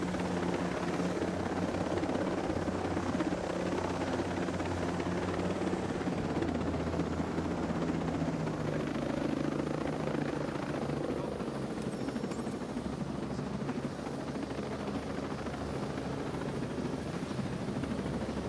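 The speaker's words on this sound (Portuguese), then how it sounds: "Medo de perder esse helicóptero" A helicopter in a video game hums and whirs in a loud, unbroken drone that holds steady throughout, close and dominant with no clear speech over it.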